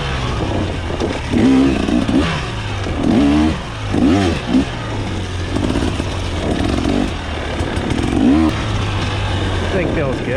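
A 2024 KTM 300 XC-W two-stroke dirt bike ridden through turns, its engine revving up and easing off in repeated bursts under a rider's steady talking throughout.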